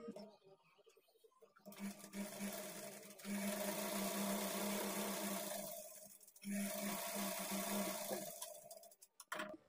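A sewing machine stitches a folded half-inch margin on a blouse sleeve in two bursts of steady whirring, separated by a brief pause, with quieter handling sounds at the start and end.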